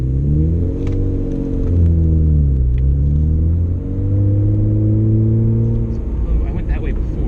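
A Midnight Purple Nissan Skyline R34 GTR's engine drones loudly from inside the car while driving, its harmonic tone climbing and falling through a gear change partway, with occasional speech over the steady engine note.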